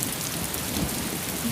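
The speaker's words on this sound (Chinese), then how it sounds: "你看这瓢泼大雨" Heavy rain pours down in a dense, unbroken hiss, a loud, steady downpour filling the whole moment without any voices.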